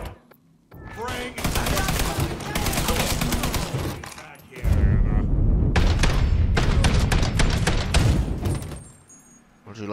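A light machine gun fires in the Mafia 3 video game in two long, loud, sustained automatic bursts of rapid shots with booming low impacts, separated by a short gap and ending in a brief pause.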